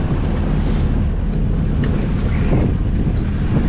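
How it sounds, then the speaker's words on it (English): A 28-foot sailboat motors across the Kattegat on grey, cold open sea, its engine turning over at low RPM as a steady low rumble, while gusts buffet the microphone with constant roaring wind noise. "So I have the engine going on low RPMs."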